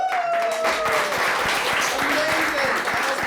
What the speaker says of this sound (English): So when I say clap, clap. Come on, let's do it one more time, everybody.